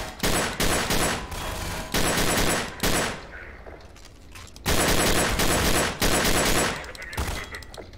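Bursts of heavy Mauser gunfire in a Garry's Mod prison escape match, loud and close, several rapid volleys broken by short pauses.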